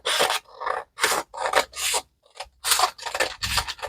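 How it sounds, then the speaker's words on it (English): Scissors snip through paper while making a coin envelope, a series of close, crisp rasping cuts in short bursts separated by brief pauses. "Then I cut off here the other side."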